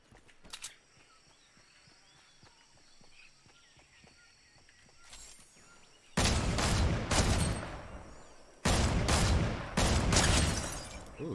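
Gunfire in a first-person shooter video game: after a quiet start with a couple of faint clicks, two loud sustained bursts of rapid shots erupt, each with several dense volleys, close and dominant.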